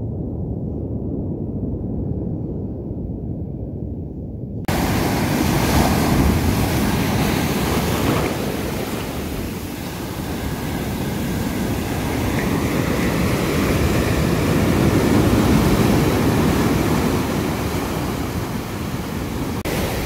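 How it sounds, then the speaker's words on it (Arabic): Rough, churning sea with heavy surf and gusting wind on a fishing outing, a loud continuous roar of waves and wind buffeting the microphone, swelling and easing over time. "ولكن البحر هاج فهمتيني، البحر هاج"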